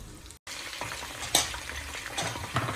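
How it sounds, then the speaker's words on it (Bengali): Cornflour-coated chicken pieces fry in oil with a steady close sizzle, a brief cut to silence near the start, and occasional crackles and light utensil clinks against the pan. "এইভাবে আমি সবগুলো চিকেনকে ভেজে নেব"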